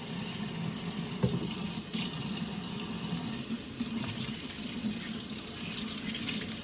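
A kitchen sink tap runs steadily while hands are washed, a continuous close hiss of water with small splashes and clatter, heard alone.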